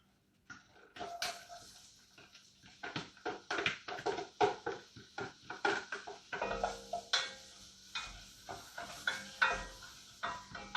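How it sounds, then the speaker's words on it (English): Vegetables stirred in a pot of bacon fat, oil and seasonings for chili, with repeated scraping and clattering of a utensil against the pan over a light sizzle, fairly close, no talking. "Coat all the vegetables with the bacon fat, the oil, the seasonings."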